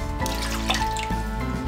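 Water poured from a tap into a bowl of sugar, cornstarch and lemon juice for a fruit tart glaze, a close, steady trickle with light splashy drips over a constant background hum.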